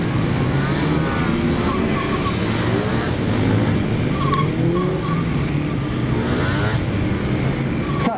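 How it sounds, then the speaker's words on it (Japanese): A Honda VTR250 motorcycle accelerates hard on a moto gymkhana course, its engine revving and climbing in pitch through repeated rising sweeps, with a commentator talking over it. "さあ、ロケット加速をしてきました吉原選手ですけども"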